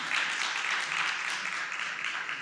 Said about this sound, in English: Can I get a resounding round of applause?